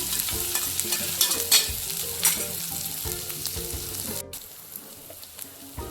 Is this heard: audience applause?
no